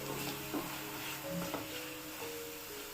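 Pav bhaji masala, cumin and coriander powder stirred in a pan, with soft scraping and a light sizzle. It is quiet and close, over a faint steady hum.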